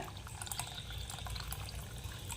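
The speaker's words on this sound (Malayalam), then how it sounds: "ഇനി ഇതിനകത്തേക്ക് കുറച്ച് വെള്ളം കൂടെ ഞാൻ ചേർത്ത് കൊടുക്കുന്നുണ്ട്" Water splashes and trickles steadily into a pot of fish curry, a continuous gurgling pour with no voices.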